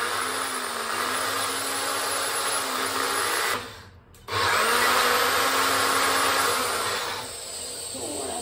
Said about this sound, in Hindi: So I have mixed everything and now we are going to blend it.